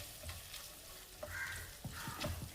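Crushed garlic frying in butter over a medium flame, a soft, quiet sizzle with a few light stirring scrapes of a utensil in the pan.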